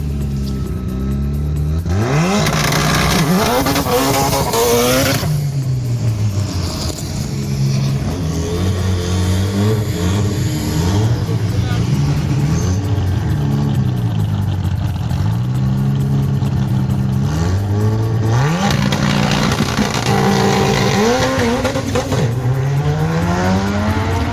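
A race car launches off the start line with heavy clutch slip at a motorsport event, its engine loud and close, revving hard in repeated rising sweeps and holding high revs throughout.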